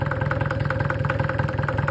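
A Mercedes OM604 2.2-litre four-cylinder diesel with a mechanical injection pump idles steadily close up, its rapid, even knocking pulse running loud and uninterrupted with no talk over it.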